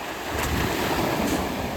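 Sea waves wash onto the beach at Dover with a broad, steady hiss of surf, mixed with wind noise on the microphone over a brief stretch.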